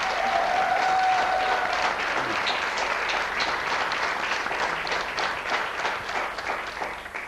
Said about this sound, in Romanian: Să-i aplaudăm